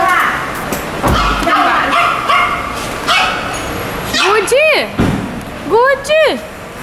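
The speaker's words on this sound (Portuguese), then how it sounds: "Chegou no aeroporto e o Rudy está latindo." Small dog at an airport giving several yipping, whimpering barks in quick bursts near the end, close and fairly loud, with a busy hall's murmur and a thump early on.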